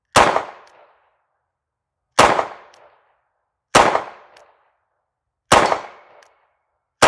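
Revolver fired in a volley, four loud sharp gunshots about one and a half seconds apart, each a hard crack with a brief ringing decay, outdoors with no talking between shots.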